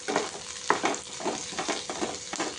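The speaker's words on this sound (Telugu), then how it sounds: "ఒక మీడియం సైజు ఉల్లిగడ్డ కట్ చేసి వేసిన, ఇట్లా కొంచెం నూనెలు వేపుకున్నాం." A medium onion, cut up, frying in a little oil in a pan for mutton curry: a steady close sizzle broken by a few stirring scrapes and clicks.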